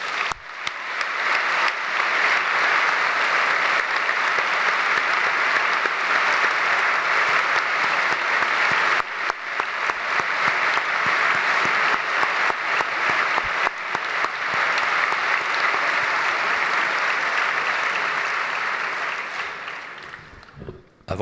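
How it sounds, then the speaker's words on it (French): Sustained applause from an audience at a medical graduation ceremony for new doctors, loud and dense for about twenty seconds before tapering off at the end. "je propose qu'on vous applaudisse encore une fois"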